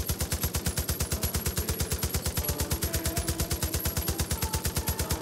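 Rapid automatic gunfire in the video game Far Cry 5 pounds out a fast, even stream of loud shots that continues without a break.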